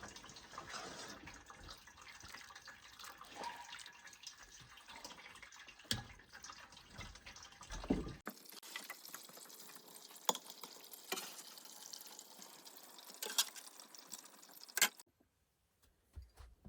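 Homemade chicken broth cooked with apple cider vinegar being strained, with liquid trickling and dripping, utensils clinking and stirring in a kitchen, steady and close, going quiet near the end.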